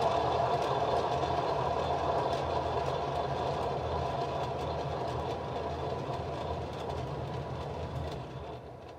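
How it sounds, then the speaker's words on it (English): A spin art machine whirls a triangle canvas, giving off a continuous motor hum and rumbling whir that stays steady and fairly loud and then eases slightly toward the end. "Okay, now I'm gonna spin the other way."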